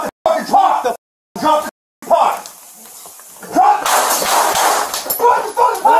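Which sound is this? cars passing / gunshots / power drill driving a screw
gunshots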